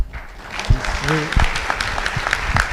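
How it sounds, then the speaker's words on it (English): Applause breaks out at a civic club candidate forum, scattered clapping building into a steady patter while a voice speaks over it. "We should have a round of applause for Mary Dumas."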